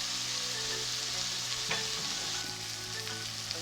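Spice paste sizzling in a pan for a traditional Old Dhaka fuluri hilsa curry: an even, continuous frying hiss over a low steady hum, close by and unbroken, with no one speaking.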